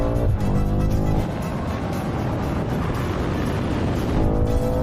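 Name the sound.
cars accelerating in quarter mile drag race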